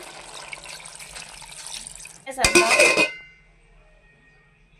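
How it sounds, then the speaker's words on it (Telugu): Water is poured into a pan of chicken curry, a brief loud splashing gush lasting about a second over a background of gentle sizzling, then fading to quiet. "కొంచెం వాటర్ అయితే పోసేసుకుందాం."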